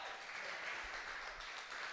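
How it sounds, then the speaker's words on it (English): Audience applause at a comedy show, a steady wash of clapping that stays faint and distant throughout, with no voices over it. "Clap."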